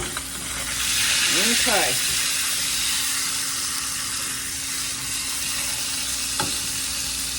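A roast sizzles steadily in a hot pan with a loud, continuous frying hiss, broken by brief scraping clatter as a metal spatula works under it and flips it; a voice speaks one short word.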